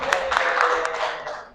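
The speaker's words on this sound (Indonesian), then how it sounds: "Tepuk tangan buat Rizky." Brief, light clapping from a classroom of students greets a pupil called forward to the front, a few sharp claps at the start settling into a thin patter that fades quickly.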